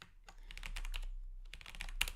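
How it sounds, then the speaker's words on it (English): Rapid clicking of keys on a computer keyboard, a close run of light taps with a short pause in the middle, no voice over it. "Bad typing today."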